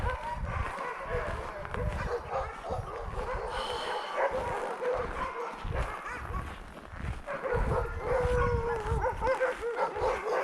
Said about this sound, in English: we hear the sound of the dogs getting louder